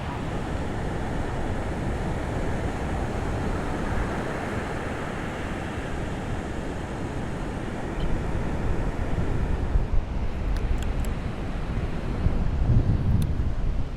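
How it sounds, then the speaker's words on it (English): Ocean surf rolls in at a breezy beach, with heavy wind buffeting the microphone into a constant low roar, and the wave wash swells louder toward the end. "Let's check out the ocean."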